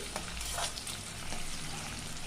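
Finely chopped onions fry in a pan for an okra tamarind curry, a dense continuous sizzle with faint stirring scrapes, close and unbroken throughout.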